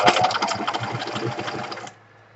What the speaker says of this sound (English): I'm going to do a zigzag stitch, a medium-sized zigzag stitch